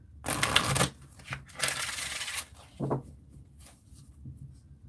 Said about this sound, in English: I wasn't even looking while I was shuffling.